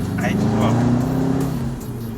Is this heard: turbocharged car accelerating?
yes